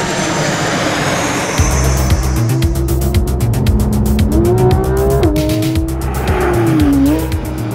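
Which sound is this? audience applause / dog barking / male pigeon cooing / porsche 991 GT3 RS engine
porsche 991 GT3 RS engine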